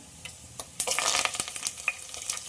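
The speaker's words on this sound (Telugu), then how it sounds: "2 ఎల్లుల్లిపాయలు కూడా చిత్తగొట్టేసుకొని ఎల్లుల్లిపాయలు వేసేసుకుందాం." Hot oil crackles and sizzles as two crushed garlic cloves hit the pan, a burst of spitting pops that settles into steady frying, close and fairly quiet.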